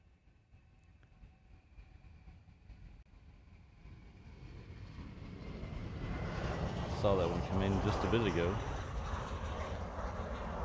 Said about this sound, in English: This is the Lilo and Stitch plane here.